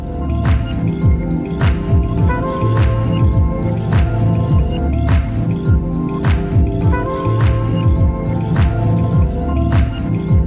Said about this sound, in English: Then we're just going to mix this up until the sauce is well incorporated and well integrated into all